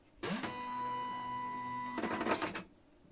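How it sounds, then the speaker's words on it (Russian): Dot matrix printer for home use printing, its stepper motors giving a loud, steady whine with a clear tone for about two seconds, then a rougher rattling burst before it stops. "слышим такой вот характерный звук, это как раз-таки звук шаговых двигателей"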